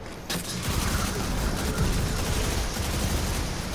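Rapid sidearm gunfire from the Sidearm Overflow in the video game Destiny 2, a sharp opening shot followed by a dense, continuous stream of shots and impacts, loud and close, with no talking.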